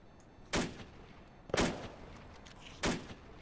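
Three sharp gunshots ring out in Arma 2: Operation Arrowhead, WWII-era Invasion 1944 setting, spaced about a second apart, each a loud broadband crack with a short decaying tail over a low background.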